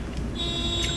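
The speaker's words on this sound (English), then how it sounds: "there's a car alarm going off" A steady electronic alarm tone rings out, shrill and continuous over a low background rumble, like a car alarm sounding nearby.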